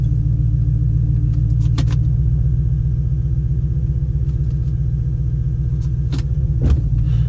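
Audi RS6 engine idling in neutral after coming to a stop, a steady close low rumble with a faint ticking texture and a couple of brief clicks, no talk.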